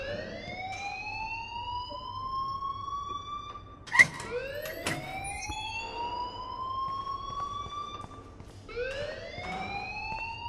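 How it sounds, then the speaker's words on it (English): A rising-and-falling electronic alarm wails repeatedly in the video game Life is Strange, each sweep climbing over about three seconds in a steady cycle, loud and continuous with a brief sharp knock near the middle. "please turn off that alarm since that's your job"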